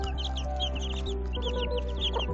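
Nine ten-day-old chicks peep busily in a continuous flurry of high, overlapping chirps while they feed, heard close up over a steady low hum.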